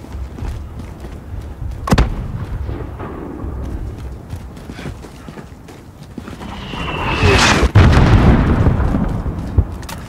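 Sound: gunfire in Call of Duty Modern Warfare video game

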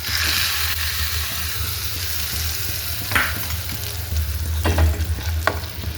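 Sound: tempering of curry leaves and chillies poured sizzling onto chutney

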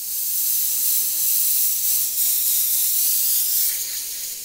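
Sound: airbrush spraying reducer, sputtering as hose stops drawing

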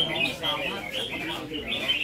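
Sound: songbird chirping in a bird singing contest

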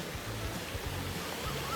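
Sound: stream flowing down from Phrom Lok waterfall

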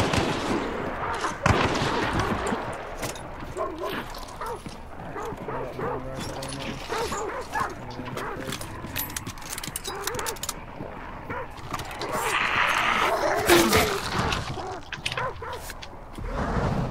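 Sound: dogs barking in Hunt Showdown video game

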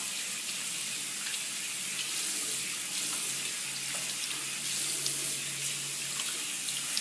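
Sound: water tap running while rinsing off face mask

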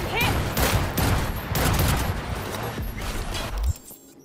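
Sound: gunfire from video game Cyberpunk Phantom Liberty

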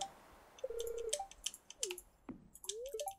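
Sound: computer mouse clicking while playing Stardew Valley

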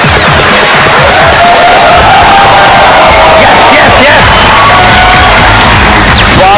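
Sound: audience applause and cheering welcoming quiz team

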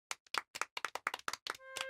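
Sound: people clapping in thanks

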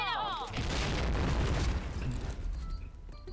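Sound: grenade explosions in a video game

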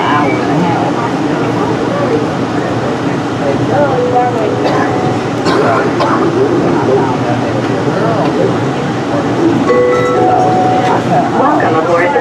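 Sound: airport people mover train departing

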